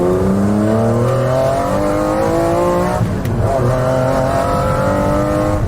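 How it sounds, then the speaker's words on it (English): The naturally aspirated 6.1-litre BMW V12 of a McLaren F1 sings loudly up through its rev range in smooth rising sweeps, briefly dips at a gear change around the midpoint, then climbs again, no talking. "the team used a naturally aspirated BMW engine, instead of using a turbocharged or a supercharged one"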